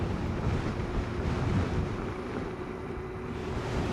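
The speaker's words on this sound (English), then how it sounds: "And then it's getting windy." Steady, loud wind buffets the microphone for several seconds during a ride in the Santa Ana winds of Southern California, a continuous broadband roar with no voices.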